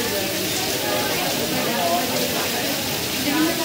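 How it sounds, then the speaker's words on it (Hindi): Heavy rain pours down in Ujjain as a dense, constant broadband hiss, loud and close, with a voice faintly present underneath. "और ये बारिश होने लगी"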